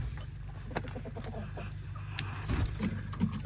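Backyard chickens clucking on a cold winter day, several soft irregular clucks and a louder call near the end, fairly close over faint background noise.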